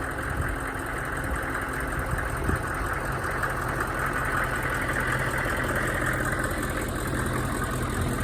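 A diesel engine fitted with a muffler idles steadily, a low continuous rumble with a faint knocking texture, close by and unchanging throughout.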